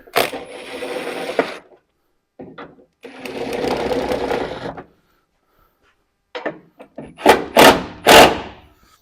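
A power tool drives in door hinge bolts on a Ford OBS crew cab truck: two longer whirring bursts, then a cluster of short, loud buzzing pulses close by.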